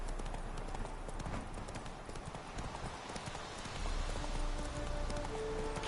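Video-game horse hooves canter in a quick, even clip-clop rhythm, close and continuous, with a soft ambient game backdrop behind them.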